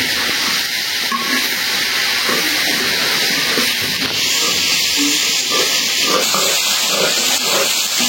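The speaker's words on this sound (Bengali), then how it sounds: "আর মাংসটাও ভাজা নিচ্ছি, ভাজা হয়ে গেছে।" Meat frying in a pan on a home stove, a loud, steady sizzling hiss that stays constant throughout, with faint kitchen clatter underneath.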